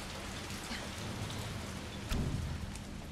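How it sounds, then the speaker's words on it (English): Heavy rain falling outside, a dense, steady hiss of drops with a low rumble and a brief louder surge near the end, no voices. "It's raining like a mug outside"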